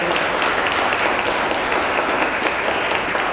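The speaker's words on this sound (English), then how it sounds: "why don't we give him a big round of applause?" A Toastmasters audience gives a speaker a big round of applause, dense and even clapping from many people filling the room without a break.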